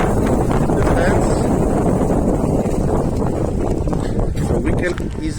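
Strong wind roars and buffets the microphone steadily outdoors beside a fence near the National Museum tram works, a loud broadband rush with constant gusting throughout.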